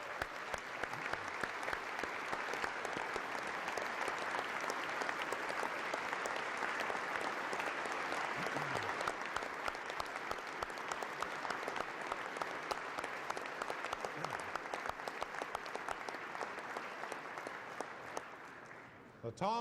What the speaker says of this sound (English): Let's give this team a round of applause.